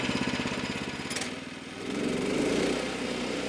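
A sawmill's engine runs steadily, then its pitch and load shift as the blade bites into the log, a loud continuous drone with no talking.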